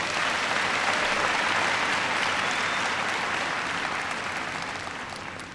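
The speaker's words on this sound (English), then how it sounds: "he deserves a clap for, a big clap." A large audience in Kenya applauds for the visiting U.S. president, Barack Obama, a dense, steady roar of clapping that holds at full strength, then slowly fades toward the end.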